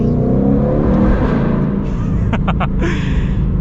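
A Shelby GT500 Mustang with almost 800 horsepower accelerates loudly through an echoing space, a dense, continuous roar with a few sharp bursts near the end as the engine pulls hard.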